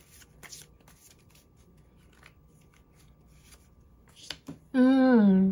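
Tarot cards shuffled during a reading: soft papery riffles and light taps close by, ending with a loud, sustained tonal sound.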